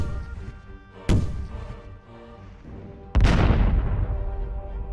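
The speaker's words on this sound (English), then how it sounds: "the pirates fired their cannon into the sky" A pirate cannon booms twice as a sound effect in a Peter Pan story, each blast sharp and loud with a long rumbling decay, set over soft background music.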